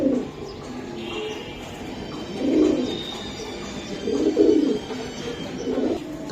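Green-necked old-breed pigeons coo in several soft, throaty rolling bursts, close by, with gaps of quieter background noise between the calls.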